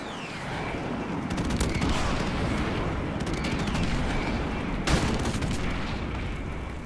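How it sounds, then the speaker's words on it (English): Airstrike explosions in Call of Duty 4: Modern Warfare Remastered, a sustained roar of blasts and gunfire with sharp cracks standing out, loud and continuous throughout. "Airstrike!"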